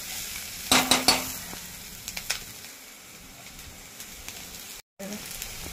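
Onion, green chilli and garlic frying in a pan for Konkani kulith pithi, a low steady sizzle with a few loud metallic clinks near the start and light stirring taps, plus brief faint talk.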